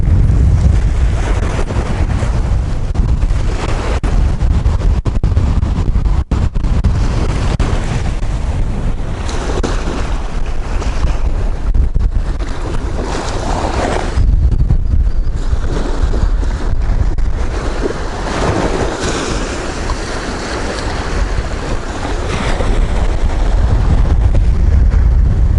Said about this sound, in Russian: как ветер прям поднимется и вот начинается, видите?